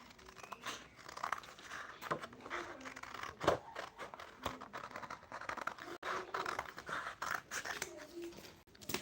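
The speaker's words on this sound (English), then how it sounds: "I'm going to first of all cut this part out," Scissors snip through material to cut out a shoe pattern piece, a run of close, fairly quiet crunching cuts with short pauses between strokes, with some rustling as the piece is handled.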